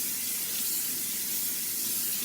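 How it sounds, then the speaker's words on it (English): Cold tap water runs steadily over a head of cabbage being washed for steamed cabbage with salt fish, a constant close hissing spray with no talk. "you just run some water with some cold water"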